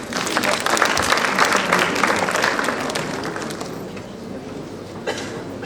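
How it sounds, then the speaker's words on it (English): An audience applauds student dancers coming onto the stage at a college parent interface cultural event, a dense, steady round of clapping that gradually thins and fades toward the end. "Let us now welcome our talented students to the stage with a warm round of applause."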